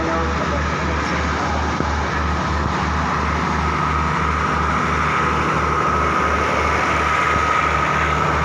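A heavy Alstom diesel locomotive idles with a deep, regular throbbing pulse, steady and close, amid faint ambient noise.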